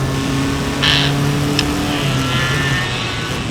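Race cars on the Mid-Ohio circuit during an SCCA Improved Touring event, a steady engine drone with a couple of brief passes rising above it, heard from trackside at moderate distance.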